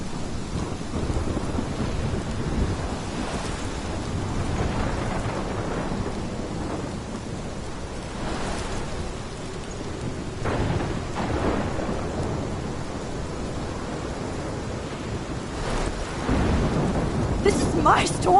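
Rain pours continuously while thunder rumbles and cracks several times during a storm in the game Life is Strange, the downpour steady and the thunder rolling in from near and far.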